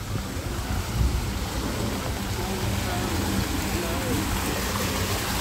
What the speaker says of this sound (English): There's the waterfall on the slanted bridge.